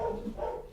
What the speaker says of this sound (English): I'd stop him from barking if I could